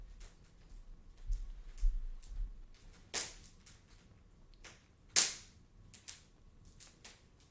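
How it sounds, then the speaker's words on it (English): A big outdoor wood fire in late autumn gives occasional sharp pops and snaps over a faint, steady low crackle, with a few loud isolated cracks standing out clearly and no talking. "Have a big fire outside."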